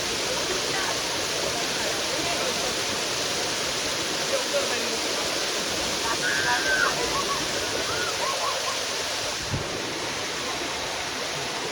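Water rushes continuously at Amboli Ghat, a waterfall or stream on a Maharashtra mountain pass, making a steady, loud, broadband roar for the whole stretch, with a voice faintly present beneath it.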